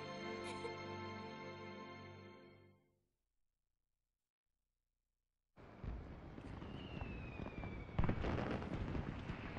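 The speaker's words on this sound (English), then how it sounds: "I love these fireworks." In the video game Final Fantasy XIII, a tonal melody fades into silence, then a dense crackling wash of fireworks with sharp pops and whistles rises and continues, steady and moderately loud.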